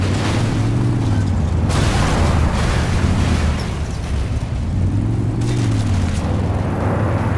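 Loud, continuous rumbling explosions and vehicle engine noise from the video game Red Faction Guerrilla, with booming bursts swelling and fading over a dense roar, no talk.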